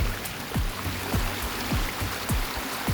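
Floodwater from a burst forest lake rushes through a coffee estate in Chikkamagaluru, a steady, dense roar of flowing water with faint low thumps recurring at a regular beat.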